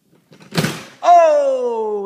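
A La-Z-Boy recliner chair being closed, a soft scuffing thump followed by a loud, sustained mechanical groan or creak that slowly falls in pitch, close and alone.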